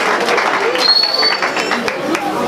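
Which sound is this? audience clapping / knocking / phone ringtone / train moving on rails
audience clapping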